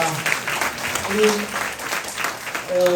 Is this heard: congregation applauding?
yes